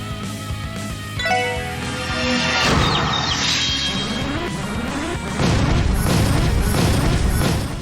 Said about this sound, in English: Look at all those explosions.